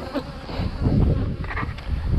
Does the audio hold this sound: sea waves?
no